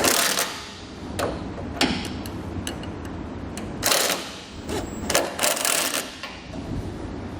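Ratcheting clicks and metallic taps from a 15/16 wrench snugging down the bolts on a Buyers Products 2-1/2 inch I.D. 4-bolt welded-mount lunette ring, coming in irregular bursts at close range with no talk.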